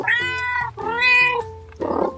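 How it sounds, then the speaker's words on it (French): A cat meows twice in quick succession, close and loud, followed by a short breathy sound, alone with no other noise. "chat,"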